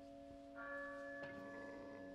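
Church bells in the Resident Evil 4 video game, a faint sustained toll that swells with a new struck ring partway through, ringing out quietly and alone.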